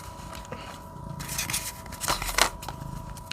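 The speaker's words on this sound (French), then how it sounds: "Je vais prendre ici les cartes, parce que sinon ça fait beaucoup" Tarot cards are handled at close range, with soft rustling, several brisk slides and a sharper flick near the end over a low background hum, and no talking.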